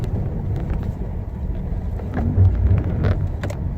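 A car spins while drifting, giving a close, steady engine rumble with wind buffeting on the microphone and a brief swell of revving partway through.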